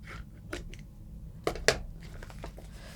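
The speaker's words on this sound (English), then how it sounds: "Cut that string off." Scissors snip the string off a hand-sewn book. Two crisp cuts come close together and nearby, against a quiet room background.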